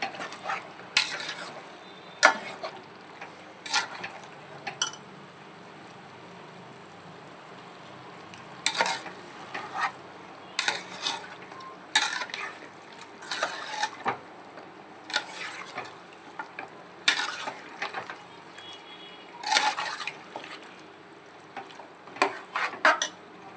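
Chicken curry is stirred in a pan: bursts of scraping and clinking from the spoon against the pan come in repeated short bouts over a soft, continuous sizzle.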